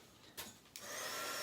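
A handheld heat tool switches on with a sudden rising blow, a short burst and then a steady loud whoosh used to dry freshly stamped ink on a Bible journaling page.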